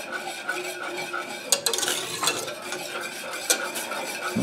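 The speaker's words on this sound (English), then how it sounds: "Now this just gets stirred" Egg gravy being stirred in a pan of hot milk, a steady scraping swirl with occasional sharper clinks of the utensil against the pan, close and fairly loud, no voices.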